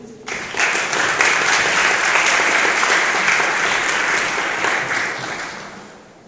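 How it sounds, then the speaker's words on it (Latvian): An audience at a Latvian student association awards ceremony breaks into sustained applause, loud and dense from start to finish before tapering off at the end. "Aplausi."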